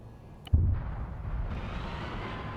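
A single heavy bomb blast in a video game bursts out loud and close, then settles into a sustained rumbling roar with steady battle noise underneath.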